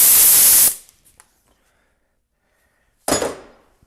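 A pneumatic air tool works on transfer case bolts of a 1999 Dodge 5.9 diesel, giving two loud bursts of hissing air separated by a quiet gap with faint clicks.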